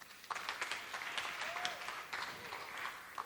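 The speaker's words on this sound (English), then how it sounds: "A hearty clap for Modoni." Steady applause from an audience at a smartphone launch event, broadband clapping filling the whole stretch at moderate level, with a faint voice briefly audible underneath.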